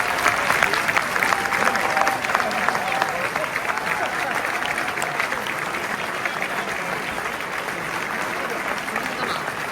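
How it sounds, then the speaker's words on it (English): A crowd applauds loudly and steadily, the clapping dense and continuous from start to finish. "please stand up and let's give them a round of applause."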